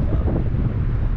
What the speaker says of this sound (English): Ooh, lots of wind today.